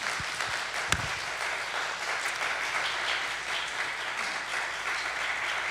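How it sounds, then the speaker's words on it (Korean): A conference audience applauds steadily to welcome speakers at a reunification mission summit, a dense wash of clapping lasting several seconds with one sharp knock near the start. "박수로 이분들을 맞이해 주시기 바랍니다"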